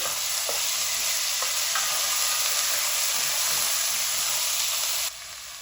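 Ginger garlic paste hitting hot oil with cumin and bay leaf in a pan, a bright, steady sizzle and hiss close by, with a few light stirring clinks before the frying quiets slightly at the end.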